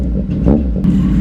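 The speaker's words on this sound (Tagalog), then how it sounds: "Tunog ng motor pag na-rev nyo." A CFMOTO 675NK motorcycle fitted with an aftermarket full exhaust is revved close by, giving a loud, steady engine note that surges briefly and then climbs again.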